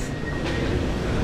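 A train at a European station rumbles with a low, continuous rolling drone and faint rail noise, steady and fairly close, with no voices over it.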